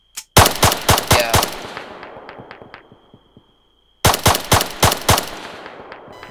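Automatic gunfire in the video game Arma III, Altis Life mode: two loud rapid bursts of sharp shots, the first tailing off into scattered fading reports, then a pause before a second burst.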